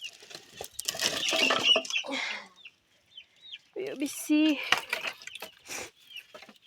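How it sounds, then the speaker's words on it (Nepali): Village chickens, a rooster and an aged hen, cluck and call close by with brief pattering, while a person speaks over them in short bursts. "हाम्रो भाले पोथी, यो चाहिँ मेरो पोथी।"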